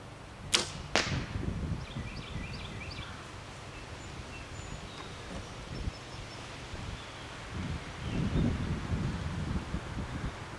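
Outdoors in wind, a bow looses an arrow with a sharp, brief snap near the start, followed by a faint second crack, then steady wind noise and rustling.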